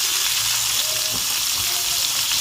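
Tilapia fish frying in a pan over medium heat, a loud, even, close-up sizzle with a dense crackle that holds constant from start to finish.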